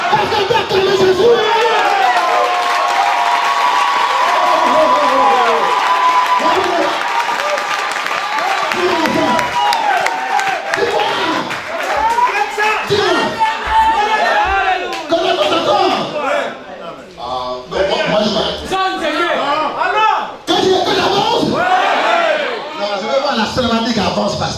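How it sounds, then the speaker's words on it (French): A church congregation cheers and acclaims Jesus, a loud, sustained crowd roar of shouts, whoops and applause that swells and dips over about twenty-five seconds, with voices calling out through it. "Parce qu'on peut acclamer Jésus."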